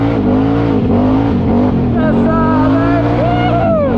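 A Honda four-wheeler ATV engine drones loud and close while riding toward a muddy hill. Its pitch wavers as the throttle changes, and a brief spoken word cuts in over the engine.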